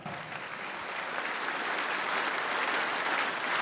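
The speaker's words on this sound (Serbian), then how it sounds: "Jedan veliki aplauz za mladost ovog grada" A large audience at a New Year cocktail in Jagodina gives a big round of applause for the town's students, a dense continuous wash of clapping that swells slightly and holds steady.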